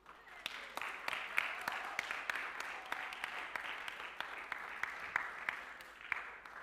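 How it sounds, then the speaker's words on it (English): A congregation at an all-age church service applauds, a fairly quiet, even spread of clapping with a few sharper individual claps standing out, lasting several seconds without voices. "Let's give Miracle a round of applause"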